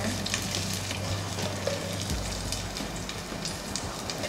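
Raisins frying in a pan give a dense, even crackling sizzle that stays constant throughout, close and fairly loud, with a faint low hum underneath early on and no talking.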